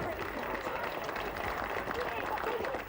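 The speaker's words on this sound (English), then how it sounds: "proud parents cheer the arrival of the ball" Proud parents cheering as a relayed rugby ball arrives at St Agnes Church Town in Cornwall: a steady, muffled crowd din with clapping and voices blending into an even roar, slightly distant and without distinct peaks.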